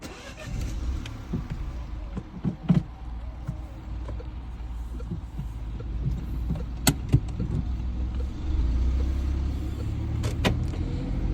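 A car is started and driven out of a parking lot, with a low, fairly quiet engine hum, scattered clicks and knocks from inside the cabin, and a deeper rumble building near the end.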